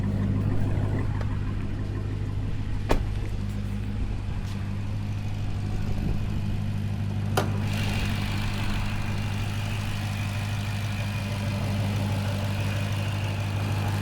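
A Dodge Scat Pack idles steadily with a deep, constant low rumble, and its engine note holds fairly even throughout, with only a couple of brief sharp clicks and no strong rev rise.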